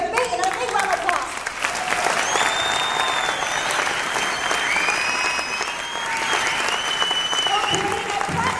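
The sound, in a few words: audience applause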